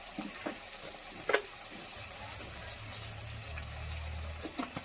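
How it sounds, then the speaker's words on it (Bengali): Spice paste with chili powder and sugar cooks in oil in a pan, giving a steady low sizzle with occasional scraping stirs, fairly quiet and with no talk. "দিয়ে একসঙ্গে মশলাটা কষিয়ে নেব"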